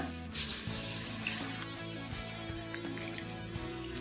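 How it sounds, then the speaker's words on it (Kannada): A quarter cup of soaked urad dal is rinsed under a running kitchen tap, with a steady splash and rush of water into a bowl, close and continuous, no talking. "1/4 ಕಪ್ ಉದ್ದಿನಕಾಳು ತಗೊಂಡಿದ್ದೀನಿ, ಇದನ್ನ ಸಪ್ರೇಟಾಗಿ ನೆನೆಸ್ಕೊಂತಾ ಇದ್ದೀನಿ. ಒಂದು 2-3 ಸಲ ತೊಳ್ಕೊಂಡ್ಬಿಡೋಣ."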